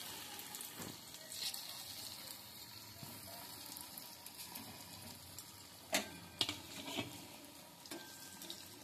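Onion dobhaji fritters dropped into hot oil, a quiet continuous sizzle with faint ticking crackles and a few louder clinks of utensils, no talking.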